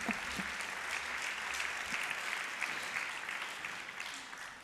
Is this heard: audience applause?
yes